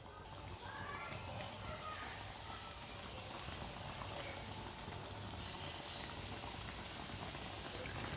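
Bread slices laid one at a time into hot oil in a pan for a sandwich, giving a steady, dense sizzling crackle that runs unbroken and fairly loud throughout.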